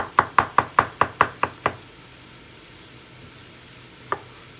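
Knife chopping onion and pepper on a cutting board for keto chili: eight quick, evenly spaced chops in a burst, then a pause over low kitchen hiss and one final chop, close and crisp without talking.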